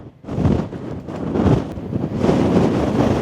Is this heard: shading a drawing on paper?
no